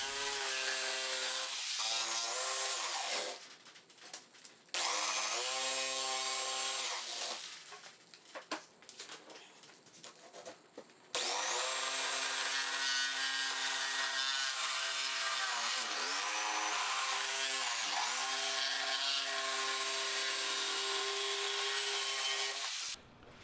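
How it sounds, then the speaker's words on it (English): A jigsaw cuts access holes in plywood with a buzzing, droning motor whine that runs in long passes, broken by two short pauses, loud and close with no talking. "I used my jigsaw to cut out holes for easy access to the nuts and bolts"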